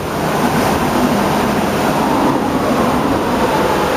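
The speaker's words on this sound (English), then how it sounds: "Do y'all hear that wind?" Strong wind blowing outdoors, a loud, steady roaring rush with buffeting noise on the microphone that continues without a break.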